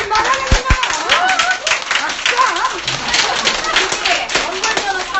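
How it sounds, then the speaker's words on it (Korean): Crowd clapping at an outdoor political rally in Gimcheon, brisk irregular hand claps mixed with shouting voices and lively talk throughout. "박수!"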